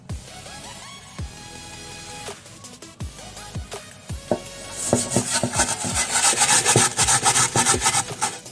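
Burnt-on crust is scrubbed off a pan in rough, scraping strokes, sparse and irregular at first, then building into a faster, louder and denser rubbing toward the end.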